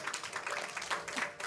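A church congregation breaks into applause, a dense, even wash of many hands clapping at moderate loudness, brief and steady with no voices over it.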